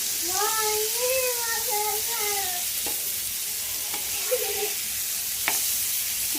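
Freshly caught fish pieces frying in oil in a pan, a continuous loud sizzle with occasional clinks from stirring, while someone speaks briefly at the start.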